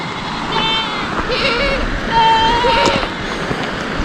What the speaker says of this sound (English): And we got a sea of goats here.